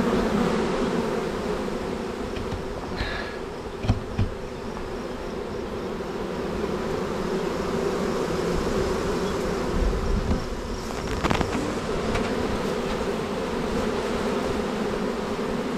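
A dense, continuous buzzing of a swarm of honey bees fills the air, steady and loud, with occasional individual insects droning close by.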